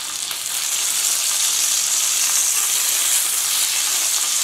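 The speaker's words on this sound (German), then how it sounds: "Und jetzt den Fisch wieder in Ruhe lassen. Einfach nur braten lassen." Cod fillet frying in a pan, a close, loud and steady sizzle and crackle that continues without talk.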